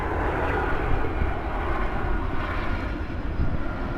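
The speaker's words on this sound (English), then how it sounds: "We got planes flying by." Airplanes flying overhead in a busy area, a steady low engine roar that swells slightly and holds, heard from a distance with no talking.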